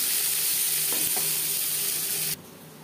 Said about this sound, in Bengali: 15-20 সেকেন্ড জিরে তেজপাতা ভেজে নেওয়ার পর দিয়ে দেবো পেঁয়াজ কুচি